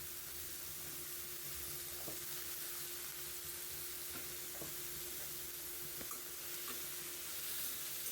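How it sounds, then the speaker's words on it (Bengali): Cut potatoes seasoned with salt and turmeric fry in a pan, making a soft, steady sizzle with occasional faint clicks of stirring, quiet and free of voices. "আর একটু লবণ আর হলুদ গুঁড়ো দিয়ে এটাকে ভালো করে ভেজে নেব"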